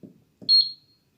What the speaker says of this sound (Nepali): 37 मा पुगेपछि चाहिँ बिपिङ हुन सुरु हुन्छ।